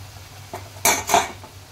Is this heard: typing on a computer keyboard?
no